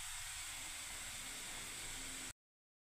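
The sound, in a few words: Maggi noodles boiling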